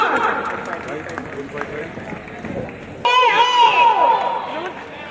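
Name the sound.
audience applause and cheering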